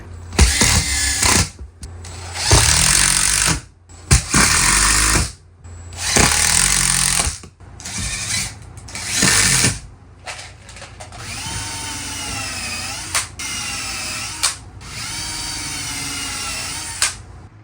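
A power drill whines in repeated loud bursts with short pauses, then runs longer with shifting pitch as it bites into a plywood floor, close up.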